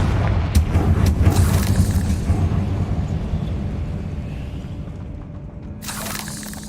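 Fire spell explosion in Hogwarts Legacy, a loud rumbling blast that rolls out and slowly fades over several seconds, ending with a sharp crackling burst near the close.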